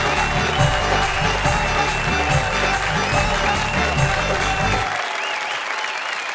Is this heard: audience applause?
yes